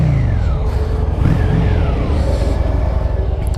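Loud, continuous roar of a Honda Shadow 750cc motorcycle accelerating on the road, pitch climbing and shifting through gears with heavy wind rush over it.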